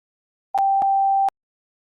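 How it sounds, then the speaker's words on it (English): A single steady pure tone of the kind used in a hearing test sounds for under a second, clean and loud against silence, with clicks at its start, middle and end. "Those series of tones range from low pitch to high pitch."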